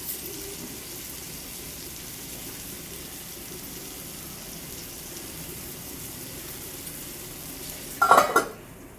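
Fish fries in a pan on the stove with a steady, soft sizzle that holds throughout, and a brief, louder stir or clatter near the end.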